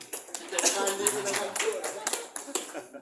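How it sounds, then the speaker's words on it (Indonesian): Short burst of applause from an audience cheering a person named Kak Ismandi, claps dense and fairly close, mixed with voices throughout. "Tepuk tangan untuk Kak Ismandi."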